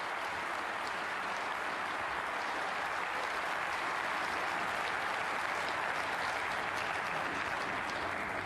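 Steady applause from a snooker audience at a neighbouring table during the 2024 German Masters, a continuous even patter of clapping held at moderate level throughout with no speech.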